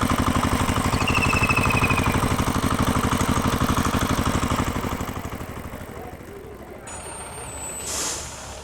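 An old tractor engine chugging steadily at close range with a rhythmic throb, then fading down toward idle, followed by a brief high-pitched hiss near the end.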